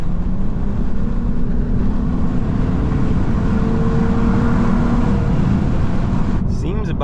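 A 2023 Lexus RC 350 F Sport's naturally aspirated V6 drones steadily from inside the car at cruising speed, a low continuous engine hum with road noise, while people talk over it.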